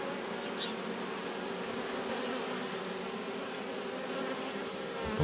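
Beneath an old black queen with damaged wings, a honeybee swarm clustered on the ground outdoors gives off a continuous, even buzzing drone, close and steady for the whole stretch, with no talking.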